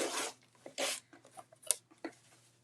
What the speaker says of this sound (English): You can see I just cut through the edge of that zipper. I'm trimming off the excess.